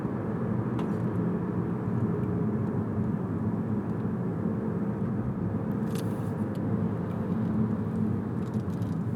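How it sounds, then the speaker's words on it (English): Steady dense roar of road traffic moving along a busy road, a continuous low rumble of engines and tires with no clear gaps, heard from close by without talk. "Look at all the traffic."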